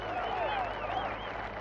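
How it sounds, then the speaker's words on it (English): A golf gallery roars and applauds as a putt drops during the 1989 Masters, a dense, sustained wall of cheering and clapping from a large crowd, with a commentator's voice riding over it. "that's a cheer that everyone will hear"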